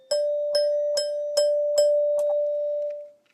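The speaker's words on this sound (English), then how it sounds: "my tone chimes or my tone bells" Handheld tone chime bell struck repeatedly on a single note, six clear evenly spaced strikes with a pure sustained ring that fades out at the end, close and alone.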